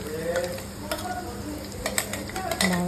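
Fish curry ingredients with a ground paste being stirred together in a pan, a steady low sizzle under repeated scraping and clinking of a spoon, with a few brief knocks.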